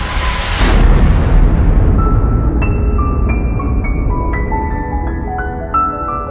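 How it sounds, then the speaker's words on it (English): A loud, deep explosion bursts at the start and rolls into a long rumbling decay, with faint ringing tones lingering as it fades. "They evaporate away at an increasing rate until they vanish in a gigantic explosion."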